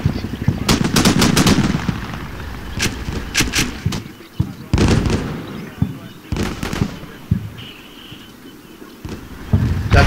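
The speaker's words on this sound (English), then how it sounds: "That thud noise that you hear is the Mark 19 on one of the command strikers." Mark 19 automatic grenade launcher on a Stryker command vehicle in the Combat Mission: Shock Force game, heard as bursts of repeated thudding shots and loud impacts, clustered in rapid volleys separated by brief pauses.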